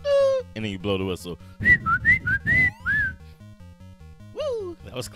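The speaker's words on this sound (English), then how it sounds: "And then you blow the whistle." In the Mighty Bomb Jack video game, a whistle blows as a run of shrill pitched whistle tones that rise and fall, set among busy game sounds, with speech-like sounds nearby.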